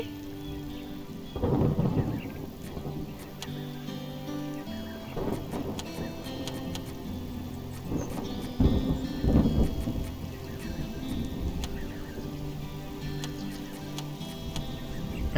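Thunderstorm with steady rain and rolling thunder in the farming game Farm Manager 2018; a continuous rain hiss runs throughout with several deep rumbling thunder swells, loud and close, no talking.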